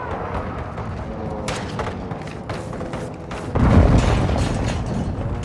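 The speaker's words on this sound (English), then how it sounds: "Enemy precision airstrike." Airstrike explosions in Call of Duty: Modern Warfare II land as muffled, rumbling booms, with a heavy low thud swelling partway through and rolling on beneath scattered clatter.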